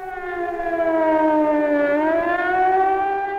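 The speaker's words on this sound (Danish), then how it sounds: "Det var i øvrigt også for den her kommandocentral, at man afprøvede sirenerne." A civil defense warning siren being tested at a Cold War command centre in Denmark, its loud steady wail sliding slightly down and back up in pitch, sounding alone and continuously throughout.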